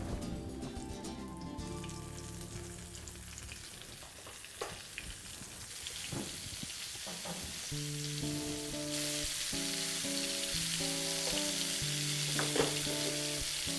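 Food sizzles in olive oil in a pan while tapas are cooked, a steady, crackling fry that grows denser and brighter over time, with soft music in the background.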